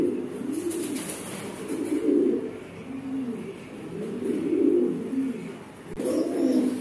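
Pigeons coo in soft, rolling repeated phrases close by, the low throaty calls rising and falling in waves with a few short pauses between them.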